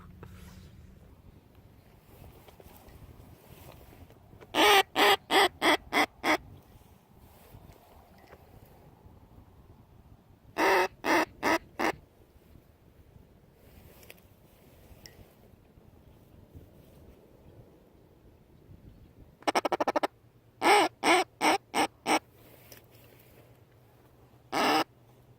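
Wild geese call near goose decoys and silos outdoors, coming in a few separate bursts of rapid honks against steady wind rush on the microphone, with quiet stretches between them.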